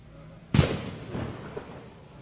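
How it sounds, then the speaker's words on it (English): A single sharp firework burst outdoors during a street protest in Nashville, a loud close bang followed by a decaying rumble and a faint later pop, with crowd noise underneath. "That was a fireworks."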